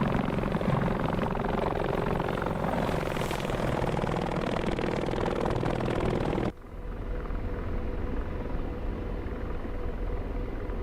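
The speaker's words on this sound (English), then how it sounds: "The flybys sound is the best." AH-64D Apache helicopter flying past in the DCS flight simulator, a loud continuous rotor and turbine roar that cuts abruptly to a quieter, duller engine hum partway through.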